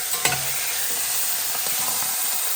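Harissa chicken pieces sizzle steadily in a pot just after being turned over, a bright, constant frying hiss with a brief clatter at the start and no talking.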